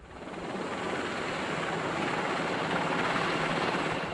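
A Lynx military helicopter flies steadily overhead, its loud, continuous rotor and engine roar swelling in quickly and then holding, with no voices.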